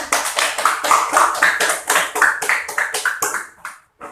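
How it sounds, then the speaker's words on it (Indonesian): Classmates in a school classroom clap for a student in a quick, rhythmic burst of close, loud handclaps that slows and stops after about four seconds. "Tepuk tangan dulu untuk kawannya Jana"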